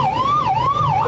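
An ambulance siren wails in a funeral procession for a fallen soldier in Panipat, a loud, close two-tone rise and fall repeating about twice per second with vehicle rumble beneath.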